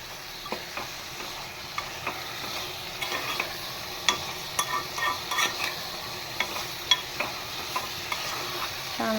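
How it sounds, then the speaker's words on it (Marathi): Half a kilo of mutton sautés in hot oil inside a pressure cooker over a high flame, a continuous close sizzle broken by a steady series of sharp scraping clicks as a spoon stirs the meat. "पूर्ण मटण अर्धा किलो आपण हे छान असं तेलावर परतवून घेणार आहे."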